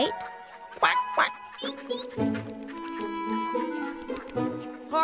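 Cartoon ducks quack repeatedly in a lively cluster, nasal calls overlapping close by with some soft background noise.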